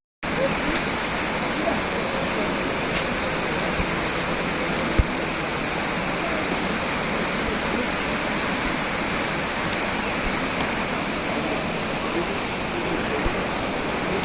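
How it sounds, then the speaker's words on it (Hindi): Heavy rain swells a waterfall at Yamunotri, roaring as a loud, steady wash of rushing water that holds evenly from start to finish with no break. "ये काफ़ी अच्छा झरना बह रहा है क्योंकि अभी हेवी रेनफॉल है।"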